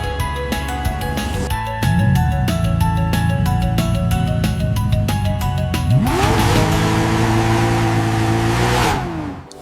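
A cartoon car engine revs and drives in a children's animation about cars, with rising and falling engine tones over background music and a louder roaring surge toward the end.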